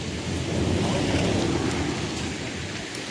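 Heavy rain pouring down steadily during a sudden monsoon downpour on an outing to Govindgad, a dense, continuous broadband wash with no voices in the clip.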